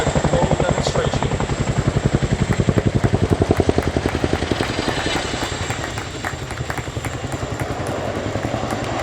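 A Royal Air Force Chinook HC.5 twin-rotor helicopter performs a flying display at RIAT 2024, its loud rhythmic rotor thudding dominating throughout, with a crowd and announcer faintly underneath.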